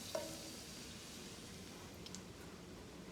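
Grated garlic sizzles quietly in hot oil for an egg roll in a bowl, a soft, steady frying hiss with a faint clink near the start.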